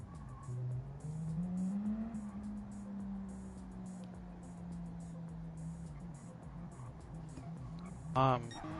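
Race cars lapping during a Gran Turismo 7 qualifying session, a sustained engine drone rising and falling in pitch under continuous talk, with a brief sharp burst near the end.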